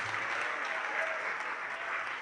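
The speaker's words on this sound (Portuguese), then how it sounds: "Vamos aplaudir ao Senhor Jesus por cada vida que está chegando." A church congregation claps together during a worship service, a steady, even wash of applause that sounds somewhat distant and soft across the short stretch.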